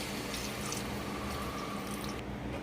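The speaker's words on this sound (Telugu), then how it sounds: "మొత్తం కలిపేసుకున్నాక కొన్ని వాటర్ వేసుకోవాలి." Water is poured into freshly mixed mutton curry in a cooking pot, giving a steady, fairly soft rushing pour that runs on without a break.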